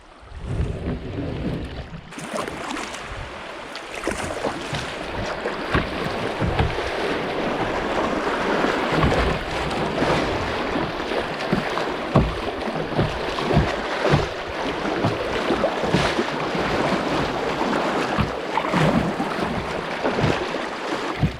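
A kayak moves through open water on a glamping route, with steady splashing, sloshing and wind noise close to the paddler that stays loud and continuous throughout, no voices.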